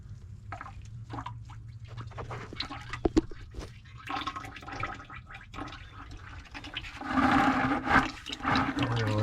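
Engine oil drains from the opened drain plug of a Minneapolis-Moline A4T tractor, a faint irregular trickle and drip that swells into a louder gurgling pour toward the end, with no talking.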